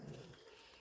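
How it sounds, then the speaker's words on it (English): Neighbours' dogs fighting in a preserved Atlantic Forest area, a close, loud burst of rough growling and snarling that fades within a second, with no talk. "The dogs are still fighting"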